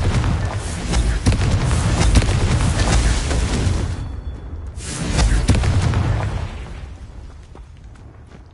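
A Confringo fire spell cast in the Hogwarts Legacy video game gives two heavy, booming blasts, each followed by a long crackling rumble that slowly fades.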